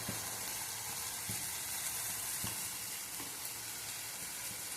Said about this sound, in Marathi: आपण याला छान तेलामध्ये तळून घेऊया सगळ्या गोष्टी व्यवस्थित